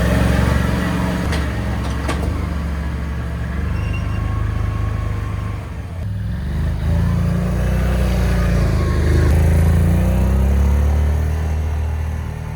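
A Can-Am Outlander Max ATV with a faulty DPS power steering idles and revs nearby, giving a steady, loud engine drone with gentle swells in pitch and a brief dip midway.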